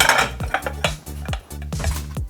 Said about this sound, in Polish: miski myję